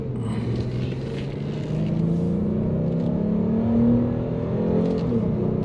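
A 2016 Lincoln MKX Reserve with a V6 engine accelerates steadily, its engine hum climbing in pitch over several seconds under road and tire noise, heard from inside the cabin.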